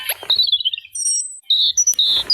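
Thin, high-pitched European robin song: short sweet whistled phrases and trills separated by brief pauses, fairly close and clear against a quiet background.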